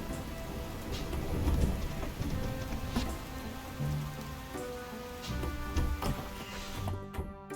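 Rain conjured by a rain spell in the farming video game Fields of Mistria, a steady pattering of drops under light background game music, continuous and moderately soft.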